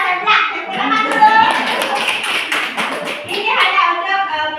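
Children in a classroom clap their hands together in a quick burst, close and lively, with kids' voices chattering and calling out over and between the claps.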